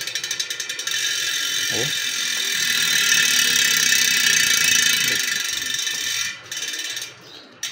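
A ratchet-type Ultra B12 bicycle hub freewheels with a loud, rapid buzzing click that runs for several seconds before slowing and stopping, close by, with a brief exclamation from a voice.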